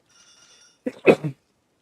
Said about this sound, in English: oh god, I have to sneeze.